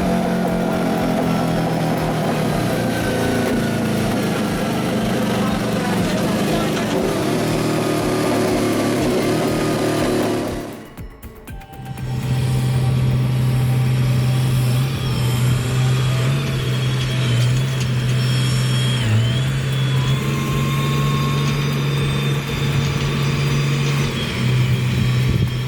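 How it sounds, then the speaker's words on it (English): A loud 60-degree V-twin motorcycle engine drones steadily at close range indoors, briefly drops out for a moment, then resumes with a deep, even throbbing hum. "Every pulse of that 60-degree V-twin hits like a hammer, shaking the whole room"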